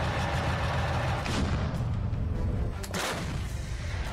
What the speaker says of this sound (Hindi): परमाणु बम गिराने वाली रूस की ये तोप कैसे आग उगलती है, इसे देख लीजिए